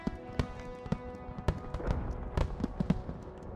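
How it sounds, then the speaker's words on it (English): Fireworks going off in a WW2 video game: a scattered series of sharp pops and bangs at irregular intervals over a steady game-sound background, with a faint crackle between bursts. "Who the fuck just starts doing fireworks in the middle"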